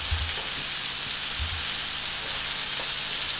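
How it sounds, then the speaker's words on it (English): Sockeye salmon fillet searing in a pan until crispy, a continuous bright crackling sizzle like light rain, with a couple of soft low thumps near the start and no voices. "Basically, I like to fry it until it gets a little bit crispy"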